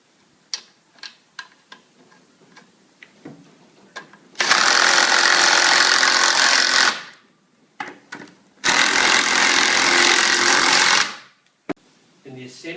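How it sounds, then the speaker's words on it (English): A power tool whirs loudly in two sustained bursts of several seconds each, tightening bolts on a solid outdoor picnic table, with clicks and taps from handling before and between. "and we tighten the bolts."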